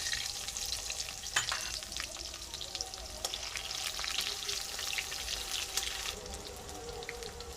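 Onions fry in a pan for a home-style chicken dish, making a continuous close sizzle with scattered crackles and spatters throughout, steady in level and free of speech.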